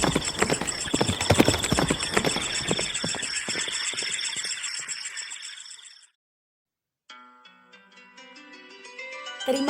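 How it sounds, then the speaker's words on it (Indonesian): A horse gallops with steady clip-clop hoofbeats in moonlight across a long open field, loud and close for several seconds before fading, followed after a pause by a sparkling musical tone. "Dalam keremangan cahaya bulan telah dilihatnya seekor kuda berpacu ke arahnya."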